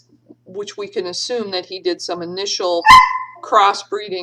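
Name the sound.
dog barking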